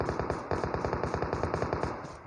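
Rapid automatic gunfire from the video game PUBG, a steady rhythmic burst of closely spaced shots repeating evenly for a couple of seconds at moderate loudness, with no voices.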